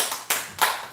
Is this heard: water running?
no